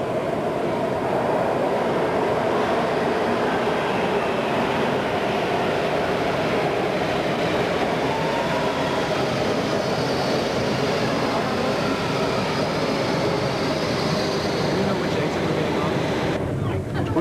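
Steady, loud rumble of a Washington DC Metro subway train running in 1990, with continuous rolling rail noise throughout and faint indistinct voices underneath.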